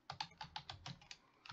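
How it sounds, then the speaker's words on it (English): Quick burst of about eight crisp keystrokes on a computer keyboard, close and fairly quiet, with no talking. "Typing in"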